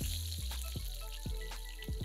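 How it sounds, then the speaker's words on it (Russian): Meat fillet frying over high heat in vegetable oil in a pan, a steady sizzle with a series of sharp spitting pops and crackles at irregular intervals, close and moderately loud, no talking. "Обжариваем на большом огне до румяной корочки, сначала с одной стороны, а затем переворачиваем на другую сторону"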